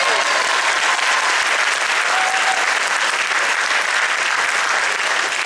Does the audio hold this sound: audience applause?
yes